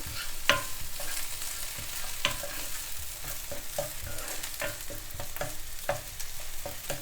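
Ginger, garlic and curry leaves sauté in a pan, a close crackling sizzle broken by frequent spatula scrapes and taps against the pan, with no one talking.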